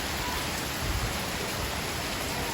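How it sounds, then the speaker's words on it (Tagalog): Steady, dense hiss of heavy rain pouring down, an even wash of noise with no voices. "Ayan at bumuhos na naman po ang malakas na ulan"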